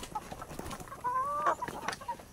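Native chickens cluck at feeding time, with a few short, close, fairly quiet calls, including one drawn-out squawk, over light background noise.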